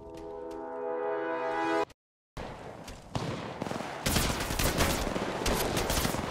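Bursts of automatic gunfire in the mobile battle royale Apex Legends Mobile, sounding as a brief burst, a short silence, then rapid sustained firing that grows loud and dense toward the end.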